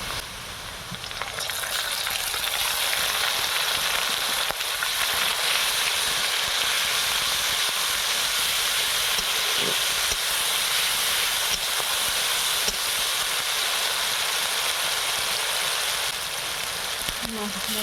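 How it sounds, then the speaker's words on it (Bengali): Ginger, garlic and dried chilli paste fries with onions for a tilapia and taro curry, a loud, steady hissing sizzle running almost unbroken from just after the start until near the end. "এবার আমি আদা রসুন আর শুকনো লঙ্কা যেটা বেটে রেখেছিলাম ওটা দিয়ে দেবো"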